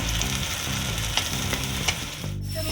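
Onion paste fries in oil with a continuous, close sizzle, broken by a few soft stirring scrapes and a brief dip near the end, with no voices.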